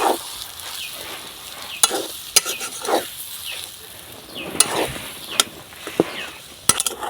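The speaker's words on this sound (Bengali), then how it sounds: "হলুদ গুঁড়ো জিরের গুঁড়ো ধনিয়ার গুঁড়ো লাল লঙ্কার গুঁড়ো ভালো করে আমি কষিয়ে নিব নাড়াচাড়া করে" Ground turmeric, cumin, coriander and red chilli frying in a pan for egg cutlets, a soft ongoing sizzle broken by repeated scraping stirs and occasional sharp metallic clinks of a spatula against the pan, close and without talking.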